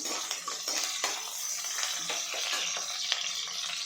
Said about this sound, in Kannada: ಹಸಿಮೆಣ್ಸಿನ್ಕಾಯಿ ಹಾಕ್ತೀವಲ್ವ, ಸೊ ಅದು ಸಿಡಿಯುತ್ತೆ.